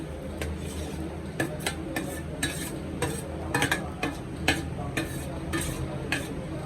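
Beef frying for chilli beef with onions tipped in and stirred, a steady close sizzle broken by irregular scraping and clinking strokes of a spoon against the pan, with no voices.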